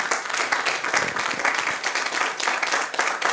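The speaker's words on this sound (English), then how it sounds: "So let's give them a round of applause." Wedding guests in Dubrovnik clap together in a steady, moderately loud wash of applause that holds evenly for a few seconds with no voices over it.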